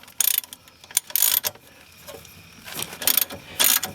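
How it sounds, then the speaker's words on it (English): A ratchet loosening a bolt on a 2005 Jeep Grand Cherokee during front ABS sensor work gives loud, close bursts of fast clicking in several short runs, with brief pauses between them and no voices. "Now I'm going to use the ratchet,"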